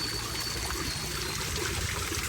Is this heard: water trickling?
yes